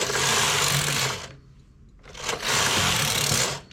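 A knitting machine knits tuck stitch: two fast, loud whirring carriage passes across the bed, separated by a brief near-silent pause.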